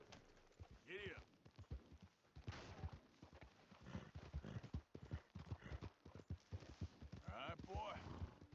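Horse hooves clip-clop in a steady walking rhythm through a night ride in the video game Red Dead Redemption 2, with a rider's short spoken urging and brief bird calls over the hoofbeats.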